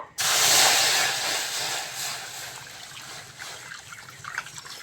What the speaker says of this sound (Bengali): উনুন ধরিয়ে কড়া বসিয়ে দিয়েছি, কড়ার মধ্যে জল দিয়ে দেবো।